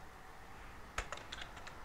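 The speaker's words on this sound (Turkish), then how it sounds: "F7'ye basıyorum arkadaşlar" A single key press on a computer keyboard lands sharply, followed by a few lighter clicks, all quiet against a faint room hiss.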